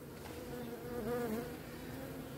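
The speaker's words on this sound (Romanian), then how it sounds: "Așa, am scuturat albine, uite." Honeybees shaken off a hive frame, a dense, close swarm buzz with a steady drone that swells slightly midway and carries on alone.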